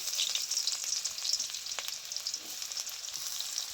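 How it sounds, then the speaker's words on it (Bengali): Chopped onion frying in mustard oil in a wok, a steady dense sizzle holding close and even throughout with faint crackles and no talk. "পেঁয়াজটা খুব ভালো করে লাল লাল করে ভেজে নিয়েছি।"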